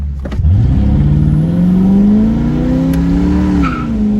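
A Ford Mustang engine runs loud and close with a misfire, its revs climbing and holding steady as the throttle is worked, with no voices over it.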